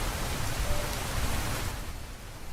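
Steady rain ambience in Minecraft, a dense broadband hiss of falling rain, loud and continuous, easing slightly toward the end with no voices.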